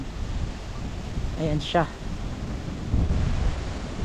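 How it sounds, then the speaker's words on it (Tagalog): Strong surf crashes at a beachfront in Dingalan, rough waves rumbling as a broad, steady wash with wind buffeting the microphone, while a voice briefly speaks. "Lakas ng alon ngayon, grabe ko."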